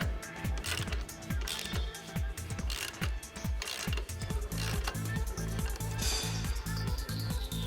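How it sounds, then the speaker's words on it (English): A bolt is tightened with a size 32 wrench and size 24 socket during assembly of a TW X-11 tyre changer, giving repeated close ratcheting clicks and metallic clatter in quick bursts, with a faint voice briefly present. "Tighten the bolt, using a size 32 wrench and a size 24 socket."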